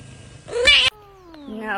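A pet cat lets out a short, close meow, followed by a rising, drawn-out cry, with a voice chatting nearby.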